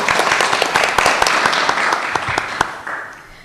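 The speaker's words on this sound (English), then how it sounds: "let us give you a round of applause" Applause from a city council meeting audience honoring standing volunteers, a dense patter of many hands clapping close by, steady then thinning toward the end.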